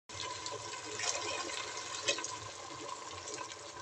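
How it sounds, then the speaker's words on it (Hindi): Two glasses of water are poured into a pot of chana pulao, making a steady gushing splash at moderate volume with no talking. "तो जी अब मैं डाल दूँगी 2 गिलास इसके अंदर पानी।"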